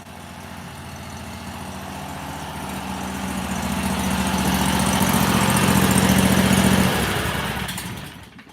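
Small motor for a rock crusher running steadily, with the muffler awkwardly positioned, a loud close engine drone that swells in the middle, holds a hum, then eases off near the end.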